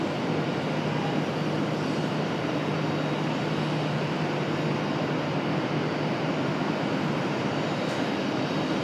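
A jet aircraft accelerating on takeoff from runway 23 left at Raleigh-Durham airport, heard as a steady, loud, broad roar with a faint low hum running through it, continuous and without speech.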